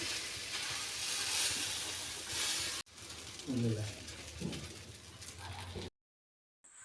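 Radish paratha frying on an oiled griddle, a steady close sizzle running throughout before dropping to near silence at the end.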